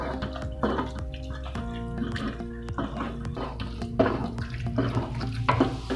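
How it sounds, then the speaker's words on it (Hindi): Grated carrot halwa is mixed in a pan bit by bit, soft wet stirring and scraping scuffs running steadily at close range under a low background hum. "थोड़ा थोड़ा यूं हम ये गाजरों का हलवा लेते जाएंगे, थोड़ा थोड़ा यूं मिक्स करते जाएंगे।"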